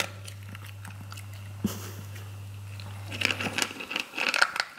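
Pet crunching dry kibble from a bowl designed to keep the pellets from spilling, close crunches and bites growing busier toward the end over a low steady hum.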